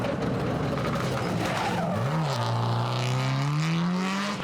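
A Subaru Impreza R4 rally car races along a tarmac rally stage in West Cork, its engine note climbing and then holding a strained high pitch as it passes close, with some tyre noise.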